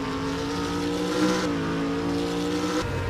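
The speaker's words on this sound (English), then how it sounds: "Car's now making their way into the clubhouse corner." Formula Micro race cars circulate at Utah Motorsports Campus, their engines buzzing loudly nearby with steady drones that dip and shift in pitch as the cars move through a corner, with no voices.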